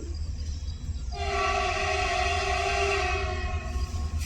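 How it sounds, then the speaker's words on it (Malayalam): A train rumbles steadily nearby, then its loud horn blares a long, sustained chord over the rolling noise. "നമ്മൾ വെയിറ്റ് ചെയ്യുക ട്രെയിൻ വരാൻ വേണ്ടിയിട്ട്"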